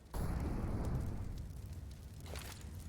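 A grenade detonates in CS:GO on the Vertigo map, opening with a heavy low boom that swells and rumbles, then slowly decays into a crackling tail with faint debris-like clicks.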